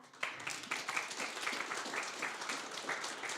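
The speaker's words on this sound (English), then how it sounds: "a big applause as well for that" Audience applause at a hackathon final pitch event, a steady dense wash of many hands clapping at moderate distance, continuous for several seconds with a quick rise at the start.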